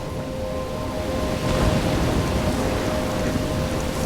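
A Life is Strange video game storm roars with dense, steady rain and a low rumbling wash that swells slightly partway through, loud and continuous with no voices.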